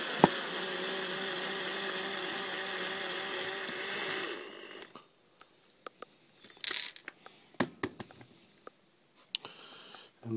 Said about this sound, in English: Now I'm going to remove the 5 mounting screws.